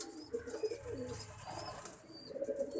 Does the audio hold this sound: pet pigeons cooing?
yes